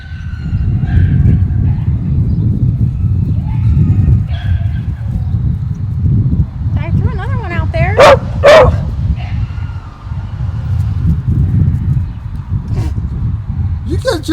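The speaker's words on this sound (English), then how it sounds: "nose to the ground there, dog." A beagle whimpers and yips in short, high bursts, with a cluster of sharp barks partway through, under near, steady talking from a person nearby.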